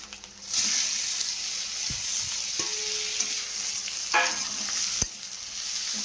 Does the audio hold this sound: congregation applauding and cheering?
no